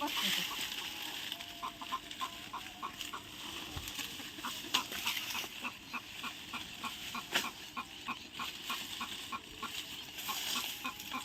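A flock of chickens clucks continuously at moderate distance, many birds overlapping in a busy, steady chatter with occasional faint voices.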